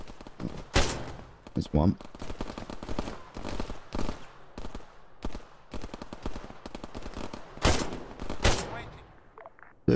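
Gunfire in Arma 3 with the Antistasi Ultimate mod: repeated sharp shots and short bursts come at irregular intervals, some loud and close, others fainter and more distant, while someone speaks briefly over them.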